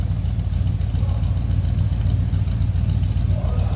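A 305 V8 engine in a 1986 Chevrolet K10 Silverado 4x4 idles with a steady, deep low rumble, close by and continuous, with no talking over it.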